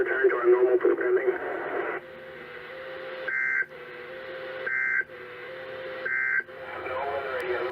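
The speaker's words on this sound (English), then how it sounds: "this has been a test of NOAA Weather Radio's warning device." A NOAA Weather Radio warning alarm tone during a required weekly Emergency Alert System test: a steady tone broken by three evenly spaced shrill beeps, heard over a radio channel with a broadcast voice underneath.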